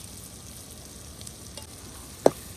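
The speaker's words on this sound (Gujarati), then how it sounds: "લસણવાળું મરચું નાખી દઈશું." Garlic chili paste crackles in hot oil for a lobster gravy dish, a soft steady sizzle with one sharp clink of a utensil near the end.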